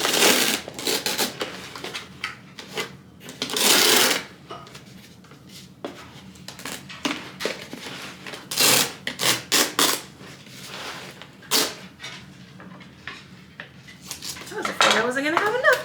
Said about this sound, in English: we're gonna put the tape on